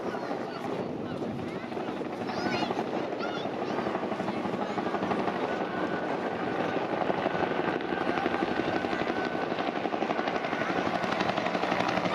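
Bell UH-1 Iroquois Huey and Hughes OH-6 Cayuse Loach helicopters at an air show, a continuous loud rotor thrum and turbine roar with wind buffeting the microphone, steady throughout with no clear speech.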